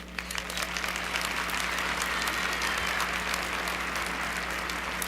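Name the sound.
audience applause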